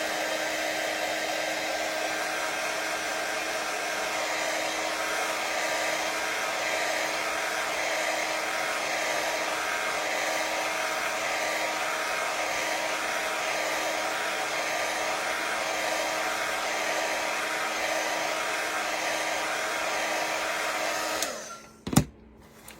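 A hair dryer drying chalk paste runs close and steady with a constant whooshing whine for about twenty seconds, then clicks off abruptly and winds down with a short clatter.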